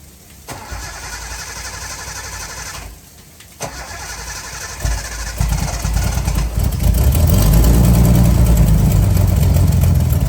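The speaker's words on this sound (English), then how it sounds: "can you get it fired up?" A project car's engine cranks, catches and fires up, settling into a loud, steady running rumble that builds as it idles, heard up close outdoors with no one speaking.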